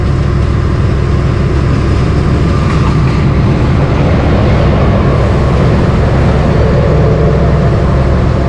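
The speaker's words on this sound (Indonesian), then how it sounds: "Ini masuk di jalur 3 ya, kereta api Argo Cirebon dari Cirebon tujuan Gambir." A passenger train, the Argo Cirebon, arrives at a station platform, rumbling steadily at close range, a continuous heavy mechanical drone with low rolling noise throughout and no voices.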